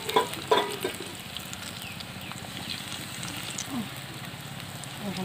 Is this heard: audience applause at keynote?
no